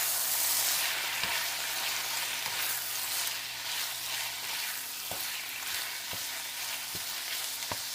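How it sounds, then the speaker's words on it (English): Seasoned food with garlic salt sizzles steadily in a hot pan while a spoon stirs it, giving a few sharp scraping clicks against the metal. The sizzle is close and continuous, with no voices. "So stir all that around."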